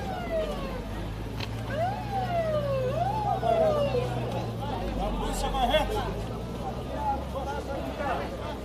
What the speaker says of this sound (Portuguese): Nós estamos esperando, aqui, observando a passagem de uma ambulância.